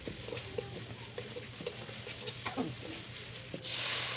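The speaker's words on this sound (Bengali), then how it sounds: "মশলা ভালো করে কষা হয়ে গেলে" A spice masala sizzles quietly in a pan for a vegetable khichuri, with soft stirring scrapes and taps, and a brief burst of louder hiss at the end.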